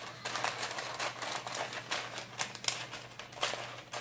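Scissors snipping through folded lining paper for a cake pan, a quick series of crisp close cuts with paper rustling over a faint background hum.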